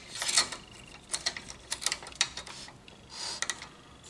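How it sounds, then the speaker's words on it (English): Inside an Epson printer with a 0x60 error, the ink cartridge holder shuttles back and forth, giving off a run of light mechanical ticks and clicks with brief whirring bursts, close and moderately quiet, with no talking. "ink cartridge's holder moving back and forth"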